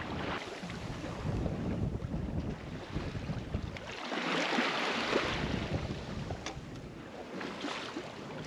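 A small sailboat moves through 14 knots of apparent wind, with continuous rushing water and wind buffeting the microphone, swelling louder midway, with no voices.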